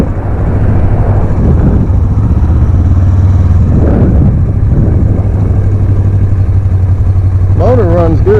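Engine of a rare 1980s Suzuki GS 450A automatic motorcycle running at a steady loud idle, close by, with a low constant hum; a voice speaks briefly near the end.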